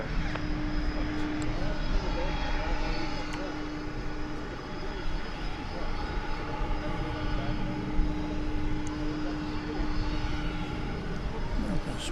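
An American Airlines MD airliner takes off from runway 18 left at DFW Airport in the evening, its engines giving a steady distant roar with a sustained tone throughout, while people talk over it.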